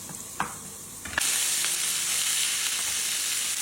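Lamb ribs and chunks drop into a hot pan for a Georgian chanakhi stew: a couple of faint taps, then a sudden loud, steady sizzle and crackle that fills the rest.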